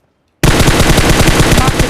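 Rapid automatic gunfire from a shooting video game bursts in suddenly and continues loud and unbroken, a dense rattling stream of shots.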